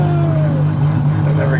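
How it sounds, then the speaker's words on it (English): A turbocharged Dodge Charger with a swapped-in 2JZ engine drones close and loud at a steady pitch, with a faint rising whine as it revs and pops fireballs. "It's so violent when it shoots fireballs."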